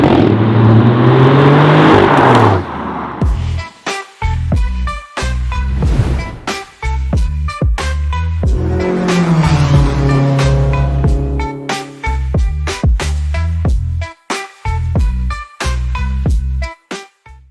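BMW i8 fitted with a Quicksilver aftermarket exhaust pulls away, a loud, close engine note rising and falling through gear changes, broken by sharp pops and cracks from the exhaust.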